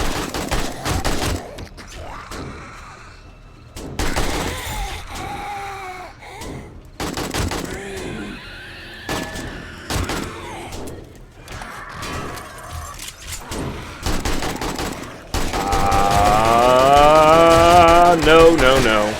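Gunfire in the survival game 7 Days to Die during a night horde, repeated sharp shots and rattling bursts scattered across the clip, mixed with someone talking loudly and other game sounds.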